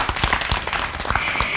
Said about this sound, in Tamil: திருமதி திவ்யா சந்திரசேகர் அவர்களுக்கு ஒரு அரங்கம் நிறைந்த கைத்தட்டல் கொடுத்துடலாம்.